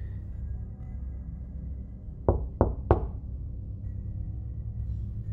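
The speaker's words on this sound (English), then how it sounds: "I was startled by an abrupt knock." Three abrupt knocks on a door ring out in quick succession, sharp and close, breaking an otherwise quiet, hushed room.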